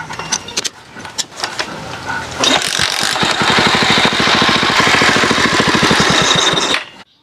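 Honda CD70 motorcycle engine mounted in a homemade car with its silencer fitted: a few sharp clicks and rattles, then the engine catches and runs at a steady, rapid, pulsing idle close by before shutting off.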